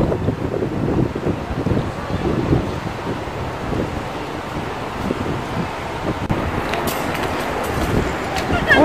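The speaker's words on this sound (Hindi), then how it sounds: "ये अच्छी ठंडी सी हवा चल रही है।" A cool breeze blows steadily past the microphone outdoors, a broad rumbling wind noise that buffets throughout, with a few faint higher sounds near the end.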